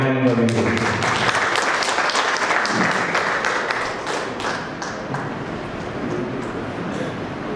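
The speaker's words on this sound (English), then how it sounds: "a big clap for Neha and Ravindra" A crowd breaks into loud, sustained applause, dense clapping filling the room for several seconds, with a few voices faintly mixed in at the start.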